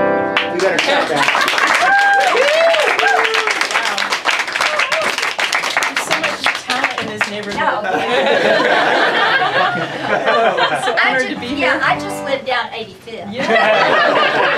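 An audience in a yurt concert claps loudly and steadily at close range, mixed with laughter, chuckles and some talking throughout.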